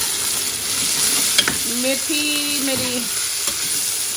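Fenugreek leaves fry in a pan for a restaurant-style mixed vegetable dish with eggs, making a continuous hiss with occasional stirring knocks, close by, while a voice speaks briefly over it.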